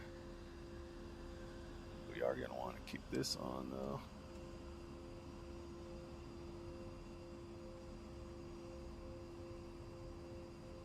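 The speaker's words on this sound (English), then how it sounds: "Now we got both engines going." Both A-10 jet engines run in the DCS flight game as a quiet, steady whine and hum, with someone speaking briefly over it near the start.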